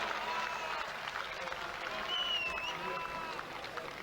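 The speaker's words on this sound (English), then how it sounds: "Big cheer from the Finnish contingent." Finnish fans cheer and applaud from the stands at a men's javelin qualifying round at the 1998 European Championships in Budapest's Népstadion. The crowd noise stays distant and steady under a commentator talking.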